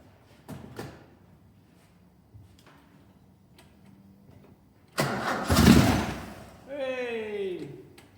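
A classic Alfa Romeo GTV with a freshly replaced head gasket cranks a few times with scattered clicks, then its engine catches and fires up loudly before settling toward a rising idle.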